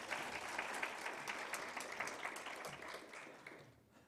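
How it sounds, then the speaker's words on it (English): An audience at an International Women's Day 2022 event claps steadily for panel members taking the stage, a dense, even round of applause that fades out toward the end. "Give them a clap while they're getting up onto the stage."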